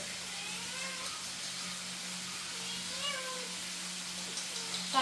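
A cat meows softly a few times in a kitchen where chicken is being roasted, over a steady low hum and background hiss, somewhat distant and faint.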